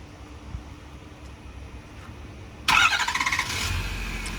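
A 2012 Ford F-250 King Ranch with a 6.7L Power Stroke diesel remote-starts after quiet ambience: a sudden loud crank and catch, then a steady close idle rumble, without speech.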